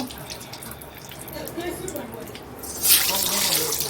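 Eggs dropped into hot oil in a home kitchen sizzle and hiss, starting as a low frying crackle and swelling into a loud, bright hiss near the end, with a voice talking over it.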